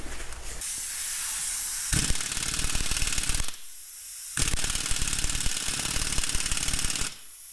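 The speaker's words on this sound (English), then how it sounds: "Let's rattle gun these bolts off." A pneumatic rattle gun drives bolts off a Ford Super Duty rear axle ring gear in loud, harsh bursts of rapid hammering, three long runs broken by short quieter pauses.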